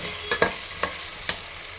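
Field beans roasting and being stirred in a pan, four quick scraping clicks with faint sizzle between, close and fairly quiet, no voices.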